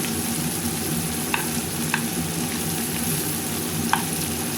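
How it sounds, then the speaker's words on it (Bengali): Prawns sizzle steadily in hot oil at close range, with a few light clicks as they are stirred and turned in the pan, and no talking. "হালকা ভেজে নেব প্লাস একটা তেলে টস করা এপাশ ওপাশ করে নিয়ে আমি তুলে ফেলব"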